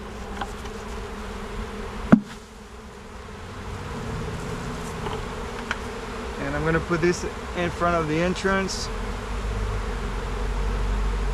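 A steady, rising drone of honeybees fanning at a hive entrance fills the background, growing louder toward the end, while a person talks briefly over it.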